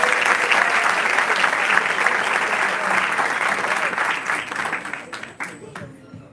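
Audience at a business school event applauds a welcome for a singer, steady dense clapping from a sizeable crowd that tapers off toward the end.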